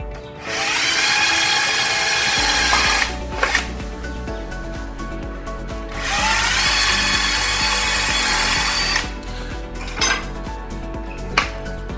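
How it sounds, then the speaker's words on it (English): A power drill whines loudly in two long bursts, drilling pilot holes for a wall guard installation, with brief clattering knocks of tools between and after them. "Now we'll drill the pilot holes."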